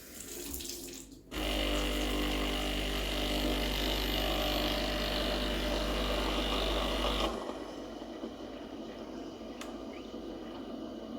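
A Breville Barista Express BES870 steam wand is purged with a sudden loud, steady hiss and rush that lasts about six seconds, then cuts off to a quiet background.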